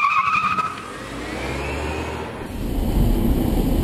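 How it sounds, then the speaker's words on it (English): An electric-converted Karmann Ghia drives past with a smooth whirring road and tire noise, a rising whine early on, then a louder, steady rush of wind and road as it moves close by. "What a great driving car this is. Nice and smooth."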